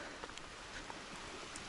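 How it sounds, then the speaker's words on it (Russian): Steady rain falls outdoors while a ZAZ 968M is being worked on after sitting idle, a dense even hiss of drops on surfaces with occasional louder patters, no talk. "сейчас дождик немного поутихнет"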